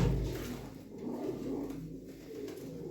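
Racing pigeons coo in a loft, low throaty rolling calls close by, repeating in soft overlapping waves with no talk.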